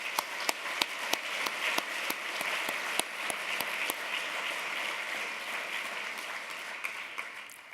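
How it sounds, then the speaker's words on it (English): Audience at the Cooper Union applauding after a Lincoln reenactment, opening with a few sharp, distinct claps that quickly swell into steady crowd clapping before gradually tapering. "Please join me in another round of applause for Harold and Richard."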